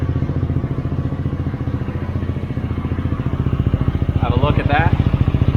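A motorcycle fitted with a new LeoVince LV-10 exhaust idles close by with a steady, throbbing rumble and even pulses throughout, while a person speaks briefly over it.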